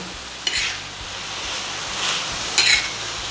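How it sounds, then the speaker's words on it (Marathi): A spatula scrapes and stirs a vegetable masala filling sautéing in a pan, soft sizzling underneath with a few sharper scraping strokes, close and clear with no talking. "तर हा मसाला आपण परतून घेऊ."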